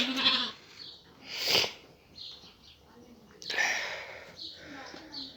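Several bleats from sheep sound at close range, scattered among soft snuffling and low background noise, with a voice mixed in.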